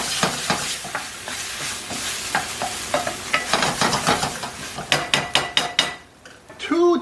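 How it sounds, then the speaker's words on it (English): Seasoned jackfruit being mixed around in a pan for vegetarian sloppy joes, a run of rapid clattering scrapes and knocks of a utensil over a light sizzle, close and loud, ending with a quick burst of strokes. "Gonna mix this all around like that."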